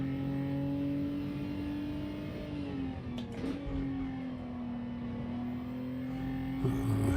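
A race car engine drones steadily in the Gran Turismo racing game, then its pitch drops briefly as it shifts down and settles into a lower tone, loud and continuous throughout.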